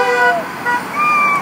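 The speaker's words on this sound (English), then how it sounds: "People are honking." Car horns honk in street traffic beside the Hawaii State Capitol during a Protect Mauna Kea gathering: several sustained toots in a row, close and loud over road noise and a murmur of voices.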